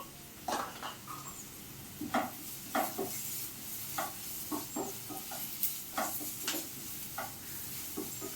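Grated carrot stir-fried in a pan for carrot rice: a quiet background sizzle broken by repeated sharp clicks and scrapes of a spatula against the pan, irregular and close.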